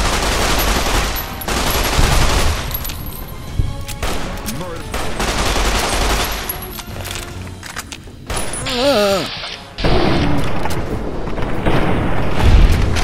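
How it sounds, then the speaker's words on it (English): A 9mm submachine gun firing in the video game Fallout: New Vegas, long dense bursts of rapid shots with booming hits, loud and close, broken by short pauses and brief voices. "9mm submachine gun, do your thing."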